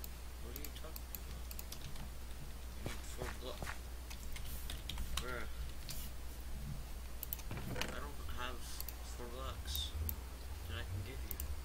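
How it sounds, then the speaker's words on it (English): Typing on a computer keyboard while playing a Minecraft survival game, bursts of rapid clicky keystrokes with a steady low hum and occasional game sounds underneath. "Can I type to him?"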